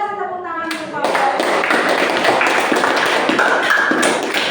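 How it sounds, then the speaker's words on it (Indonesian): An audience claps hands in a steady, dense burst that starts abruptly after a brief held tone and continues evenly, close and fairly loud with scattered sharper claps. "Boleh kasih tepuk tangan untuk kalian?"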